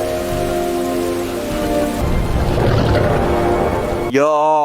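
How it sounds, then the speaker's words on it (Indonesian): Heavy rain in a survival action film scene, a dense loud wash of downpour filling the scene, followed by a sudden sweeping tonal sound at the very end. "Tepat di tengah hujan deras yang sedang terjadi"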